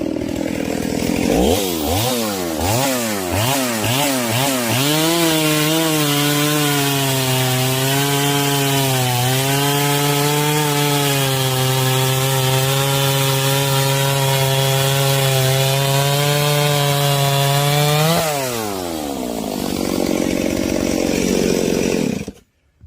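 A chainsaw fitted with a Stihl Hexa chain revs up loudly and cuts through wood for about fifteen seconds, its engine pitch dipping under load, then winds down and idles briefly before stopping.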